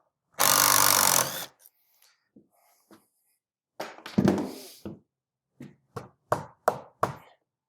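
A power drill whirs loudly for about a second, backing a temporary screw out of a wooden shed door, followed by scattered knocks, clunks and short thuds as the door is handled.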